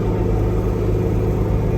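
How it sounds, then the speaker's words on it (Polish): A 1986 Fendt 307 LSE four-wheel-drive tractor pulls a harrow with a levelling board across a riding arena, giving a loud, steady low diesel rumble with an even throb and no voices. "brona rewelacja ciągnik Fendt 307 LSE"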